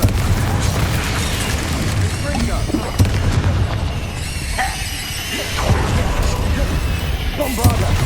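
Confringo fire spells from Hogwarts Legacy burst repeatedly in combat: dense, loud booms and crackling blasts layered over continuous battle noise, with voices calling out during the fight.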